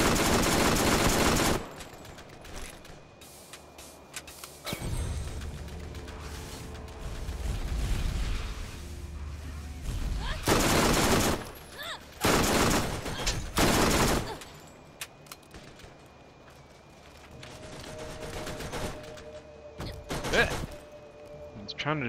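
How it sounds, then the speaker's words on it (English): SMG fire in the Borderlands shooter game, heard as loud, dense bursts of rapid automatic shots that repeat in several separate volleys among quieter stretches of game noise. "Just give me the damn SMG and I'll just shoot it until it dies."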